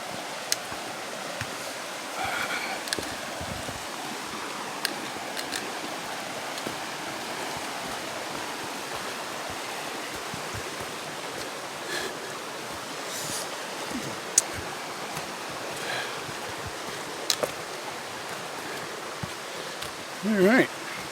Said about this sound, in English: with the water running behind me